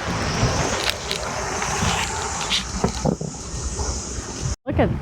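Gusty wind roars and buffets the microphone outdoors on the docks at a sailfish tournament, with faint knocks and thumps beneath and a brief dropout near the end.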